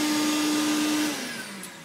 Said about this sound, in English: let me turn off the vacuum.